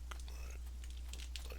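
Rock blocks set down in the building game Boundless give crunchy, gravelly bursts in quick irregular succession, close and fairly loud over a constant low drone.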